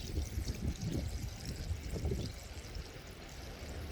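Rainwater pouring into a bucket to make compost tea, a close, gurgling splash and trickle that is strongest at first and then eases into a softer, steady flow.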